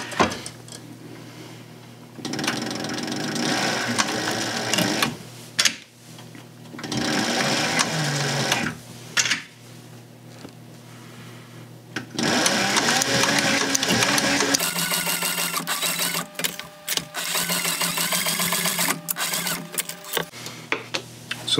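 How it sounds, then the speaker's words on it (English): A sewing machine stitching pieces onto a purse, close and loud, running in several bursts of steady rapid whirring separated by short pauses, with no talk. "I'm just gonna sew them right where I want them"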